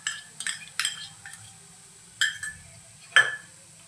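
Grated fresh coconut is stirred into a Malvani-style French beans stir-fry in a pan, giving a few sharp, scattered spoon clinks and scrapes against the metal, close and fairly quiet, with no talk.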